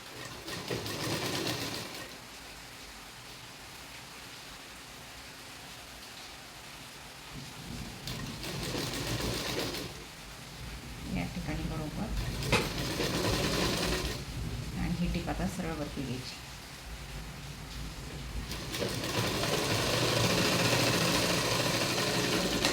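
A sewing machine stitches a blouse seam, running in several separate bursts of steady mechanical whirring with quieter pauses between them.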